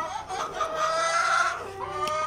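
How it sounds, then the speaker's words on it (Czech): A hen clucks and squawks while held in a person's hands, a series of close, nasal, wavering calls rising and falling across a couple of seconds, with faint background sounds. "Jirko, podrž takhle tu slepici."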